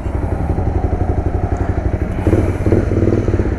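A Honda CBR 250R motorcycle fitted with an adapted Akrapovic exhaust tip idles up close with a loud, steady, lumpy single-cylinder pulse, and a slight rise in revs comes near the end.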